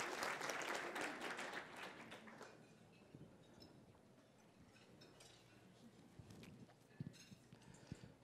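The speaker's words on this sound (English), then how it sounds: "a round of applause" Applause from a crowd at a talk, loud and dense at first, then thinning out into scattered claps and faint room noise.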